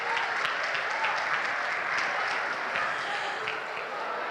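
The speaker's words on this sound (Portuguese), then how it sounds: "Uma salva de palmas, gente, para a terra." A crowd claps steadily for several seconds, dense even applause without cheering or speech.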